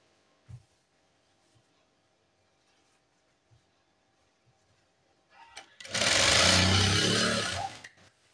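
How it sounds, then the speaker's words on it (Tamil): A sewing machine stitches the cloth of a nurse's uniform pant in one loud, steady mechanical whir lasting about two seconds, after a near-silent stretch with a few faint handling knocks. "இப்ப இதுல நம்ம வந்து தையல் போட்டுடலாம்."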